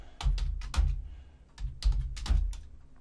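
Close, crisp keystrokes on a computer keyboard come in two quick clusters of clicking taps with a short pause between, fairly loud and with no talking.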